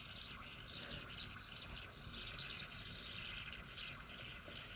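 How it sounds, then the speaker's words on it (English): Drinkmate Omnifizz soda maker bubbling and fizzing steadily as it carbonates, a continuous hissing, churning wash close by with no pauses. "it kind of bubbling now too"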